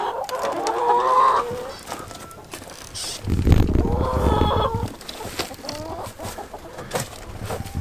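Backyard chickens let loose from their coop cluck and squawk in bursts, fairly close, with a rooster-like call among them and brief bits of human voice in the farmyard.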